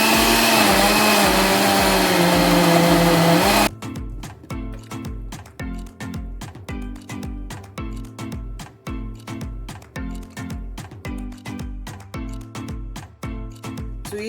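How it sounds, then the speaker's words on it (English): A blender whirs loudly and steadily for several seconds while mixing banana and egg, then cuts off, leaving rhythmic thumping background sounds in the rest of the clip. "So I'm going to blend them together"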